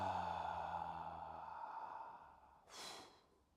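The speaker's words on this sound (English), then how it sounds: "The exhale." A slow breath is let out in a long, soft, airy exhale, with a brief louder puff of breath near the end, close and quiet with no talk.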